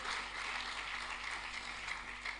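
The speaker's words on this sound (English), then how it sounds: "You can clap better for Jesus" Clapping from a congregation at a Sunday deliverance church service, a steady, dense patter of many hands held at an even level across the whole stretch, somewhat distant and hissy, with no voices over it.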